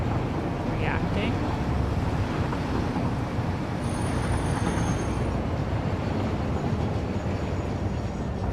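A train runs continuously in the game Satisfactory, a steady loud rumble with rolling noise that persists throughout and carries a faint high tone partway through.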